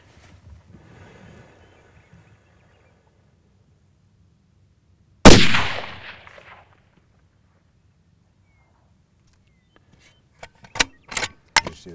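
A single loud rifle gunshot fired from a tripod rest during hunting practice cracks out near the middle, with a short decaying report, preceded by faint rustling and followed by a few sharp clanks near the end.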